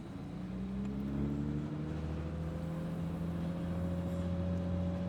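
A 1965 Brasinca 4200 GT with a dog-leg gearbox pulls away, its engine droning and rising steadily in pitch as it accelerates, heard loud and close from inside the car throughout.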